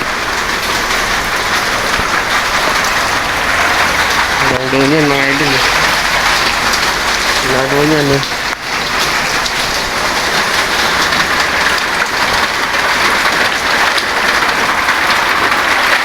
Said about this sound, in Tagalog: Pag lakas-lakas ng ulan, baha talaga to.